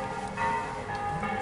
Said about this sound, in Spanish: la campana de Linares. ¡Oye, cómo se oye! Repicando noche y día